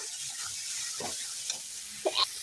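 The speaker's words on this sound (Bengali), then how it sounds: "কাশ্মীরি লঙ্কার গুঁড়ো একটু দিয়ে দিলাম। দিয়ে একটু আমি হালকা করে কষিয়ে নেব।" Spices with Kashmiri chili powder sautéed in a pan, a quiet low sizzle broken by a few scraping stirs and a brief louder clink near the end, without any voices.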